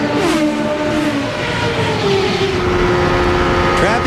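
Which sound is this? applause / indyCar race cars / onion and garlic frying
indyCar race cars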